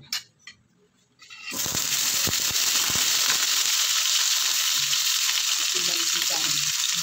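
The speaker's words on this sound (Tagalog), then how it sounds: "Iprito muna natin itong ating patatas mga guys" Potatoes frying in hot oil in a pan, starting with a few faint clinks before a loud, steady sizzle takes over and continues unbroken to the end.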